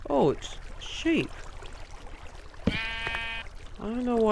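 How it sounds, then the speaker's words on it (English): Sheep bleating in the Minecraft video game inside an underground mine dungeon, several short wavering bleats spaced apart, loud and close, with a faint trickling water background. "I don't know why there's a sheep down here in the dungeon, in the mines."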